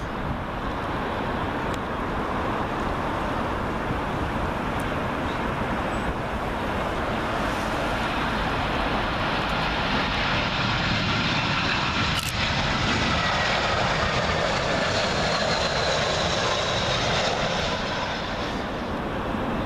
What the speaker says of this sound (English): Up next, another British Airways A320. This one from Marseille